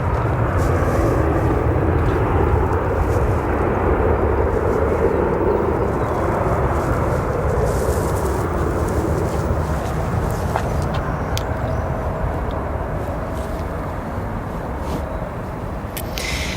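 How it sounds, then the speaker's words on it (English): A Boeing 787 Dreamliner airliner at O'Hare airport gives off a sustained, loud engine rumble and roar that fades slightly toward the end, with occasional faint clicks. "Also, that is not a 777, that is a Dreamliner."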